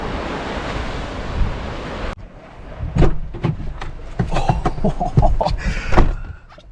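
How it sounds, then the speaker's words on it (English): Heavy rain pours onto a car, first as a dense steady roar, then muffled from inside the vehicle with scattered sharp drops and knocks on the roof and glass. "it is pouring rain, so stuck in the car"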